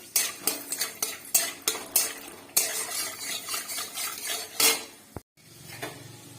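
Peanuts fry in a little oil in a wok, with repeated sharp scrapes and clinks of a metal spoon stirring them against the pan over a faint sizzle, close and loud, then a brief cut near the end.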